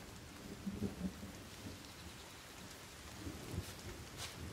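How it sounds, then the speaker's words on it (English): Thunder rolling during a rainstorm in a survival video game, low rumbling bursts over a steady hiss of rain, moderately distant. "Lightning."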